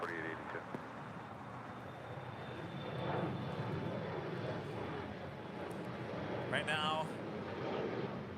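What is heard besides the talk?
SAS airliner departing from LAX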